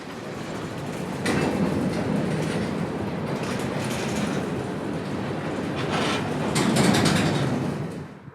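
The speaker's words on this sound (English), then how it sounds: "Today's train would be made up of mostly tank cars from Sunoco at Milldale" A CSX freight train made up mostly of tank cars rolls past close by, a steady broadband rumble with clickety-clack wheel rhythm swelling near the end.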